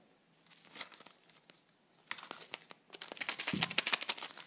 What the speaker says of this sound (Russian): И мы открываем следующий Kinder Joy.